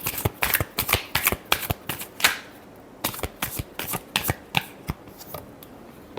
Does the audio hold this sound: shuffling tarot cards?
yes